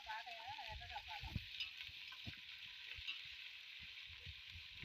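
Ginger paste frying with onions in a pan, a soft, quiet sizzle with occasional light stirring taps, low in level, while a voice speaks briefly at the start.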